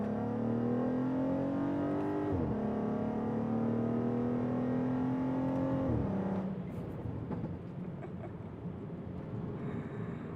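A Skoda Superb's 3.6-litre VR6 engine revs up twice, its note climbing through each pull before dropping sharply, then settling into a lower, rougher idle; loud and close, with no talking.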